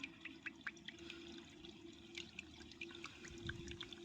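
Soapnut juice is poured into a container, a faint, close trickling and splashing of liquid with small irregular drips throughout.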